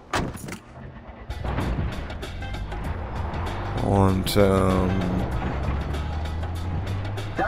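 A car engine in the video game Far Cry 4 hums steadily as a vehicle drives along, with a brief swell of passing traffic and a voice talking over it.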